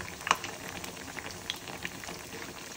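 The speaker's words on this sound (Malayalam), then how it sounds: "എണ്ണയൊക്കെ ചൂടായി എണ്ണയ്ക്ക് പൊട്ടാനുള്ള ഒരു ടെംപ്റ്റേഷൻ ഉണ്ടല്ലോ വെള്ളമല്ലോ ഉണ്ടായിരുന്നു അതിനകത്ത്" Hot oil spitting and popping in a pan while already-cooked snack pieces fry, with faint irregular crackles and one sharper pop near the start over a low bubbling hiss.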